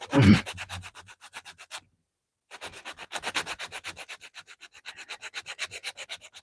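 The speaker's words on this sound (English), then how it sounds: "And then we got to sharpen, polish this blade." Knife blade being sharpened and polished: rapid, rhythmic scraping strokes, close and fairly faint, with a short pause before the strokes resume at a steady pace.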